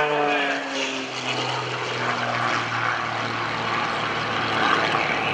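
Aerobatic propeller airplane flying at an airshow, a steady droning engine with a pitch that sweeps downward as it maneuvers, loud and sustained, with faint talk underneath.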